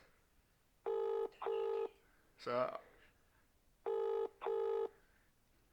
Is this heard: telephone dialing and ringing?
yes